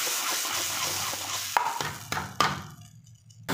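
Lentils fry with spices in a pan for butter khichdi, giving a close, steady sizzle with a few knocks of the spoon against the pan before the sound fades to near quiet.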